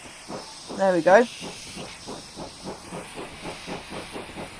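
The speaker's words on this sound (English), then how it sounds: "Cylinder cocks, please." Steam locomotive cylinder cocks hiss in a 1950s heavy freight train simulator, a loud burst of steam followed by a row of rhythmic, chuffing puffs repeating steadily; someone speaks briefly over the start.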